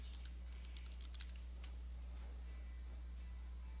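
Typing a password on a computer keyboard: a quick burst of a dozen or so light, close key clicks over about one and a half seconds, then a low steady hum alone.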